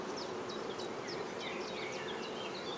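Honeybees at an apiary hive hum in a steady, dense drone, with individual bees zipping close past in quick, rising whines over the continuous buzz.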